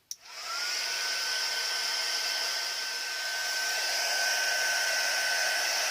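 A heat embossing tool, preheated until very hot, blows a steady loud whoosh of hot air over cardstock while making a square pillow box favour; it starts with a click and runs continuously without any talking.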